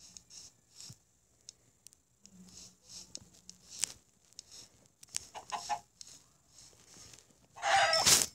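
A Minecraft chicken gives scattered short clucks amid sparse game sounds, ending in a louder burst of noise as it is killed.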